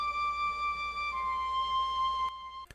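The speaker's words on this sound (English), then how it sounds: "Nice woodwind." A synthesized woodwind layer from a liquid drum and bass track holds one sustained, breathy tone with a slight pitch drop midway. It is soft and alone, and ends with a couple of short clicks.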